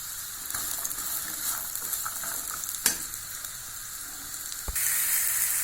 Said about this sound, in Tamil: இப்போ நம்ம அந்த பாவக்காயை அடுப்பில் ஆயில் போட்டு கொஞ்சம் ஃப்ரை பண்ணி எடுத்துக்கலாங்க.